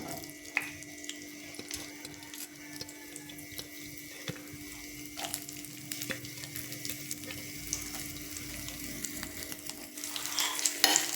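Coconut pieces frying in hot ghee, a soft continuous sizzle with scattered light crackles and scraping stirs, close and fairly quiet, no talk.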